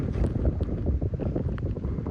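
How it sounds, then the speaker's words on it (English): Steady, heavy wind buffeting the microphone, a constant low rumble with gusty fluctuations and no speech. "It's windy, so I'll cut"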